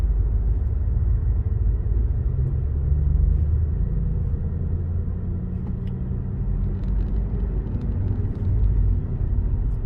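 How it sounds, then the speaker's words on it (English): A BMW supercar drives through downtown Miami traffic near the Freedom Tower, a steady low engine and road rumble from inside a vehicle, continuous and moderately loud with no voices. "BMW supercar up there on the right,"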